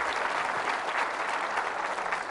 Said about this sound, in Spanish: Fuertes aplausos a la palabra de nuestro Señor y Salvador Jesucristo.